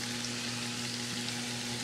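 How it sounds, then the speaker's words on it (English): Chicken and vegetables with a breadcrumb coating simmering in a pan over low to medium heat, a quiet, even sizzle and bubbling hiss with a constant low hum, close and uninterrupted. "And that's simmering right there"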